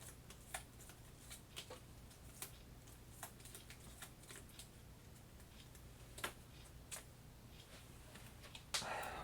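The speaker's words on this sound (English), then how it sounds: "Okay, gotta shuffle now." Playing cards shuffled at a tabletop during a Kingdom Death Monster board game session, a series of quiet, scattered riffling ticks and flutters over a steady low hum, with a sharper burst of cards near the end.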